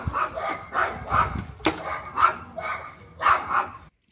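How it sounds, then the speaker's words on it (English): A pet dog barks outside in a garden, giving a run of repeated, fairly loud barks and yips in uneven bursts, heard alone without talk. "you can hear how bad my dog is out in the garden."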